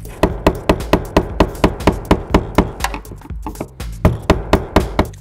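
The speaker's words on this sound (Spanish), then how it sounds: "lo tendremos que apretar como hemos hecho antes con el destornillador y el martillo" A hammer drives a screwdriver to tighten the locking ring of a car's fuel pump, producing a fast, steady series of sharp metallic taps close by. There is a brief irregular stretch midway, and no one speaks.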